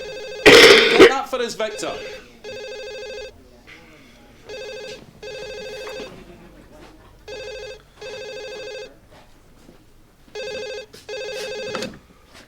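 A telephone rings in the TV sitcom Still Game, sounding in repeated paired bursts at a steady rhythm, fairly loud and near, after a loud burst at the start and brief speech.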